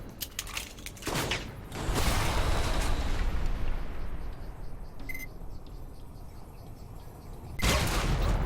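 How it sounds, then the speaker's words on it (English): Chain shot gunfire in Alpha Protocol landing two headshots, a loud sustained roar of rapid shots and impacts with sharp cracks, a brief pause, then another burst at the end. "And that's how chain shot's supposed to work. 2 headshots in one go."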